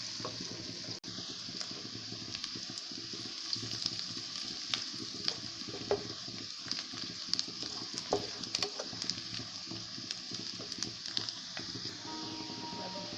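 Onions frying in a pan until golden for a vegetable dish, with a steady close sizzle and frequent clicks and scrapes of stirring, no talk over it.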